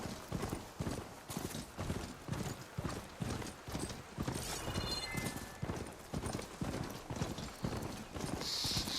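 Steady clip-clop of a robot horse mount's hooves in Horizon Forbidden West, trotting at an even rhythm, close and fairly loud, with a faint mechanical whinny-like cue near the end.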